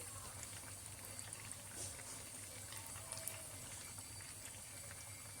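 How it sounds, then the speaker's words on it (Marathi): Sabudana vada deep-frying in hot oil gives a steady, quiet bubbling sizzle with faint crackles, continuous and close. "दोन्ही बाजूने चांगले खरपूस तळून घ्यायचे"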